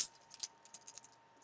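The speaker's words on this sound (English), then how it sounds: "I don't even know what these keys are for" Keys jangling from a handbag, a quiet series of light metallic clinks and taps scattered unevenly over about a second and a half, close and faint with no talking.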